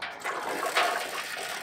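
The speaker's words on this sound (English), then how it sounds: "pump with this pump really cold water through the wort chiller and out until this goes down a little bit" Cold water gushes and rushes steadily as a pump pushes it through a wort chiller while beer is brewed in hot weather. The flow is close and continuous, with a slight mechanical whir underneath.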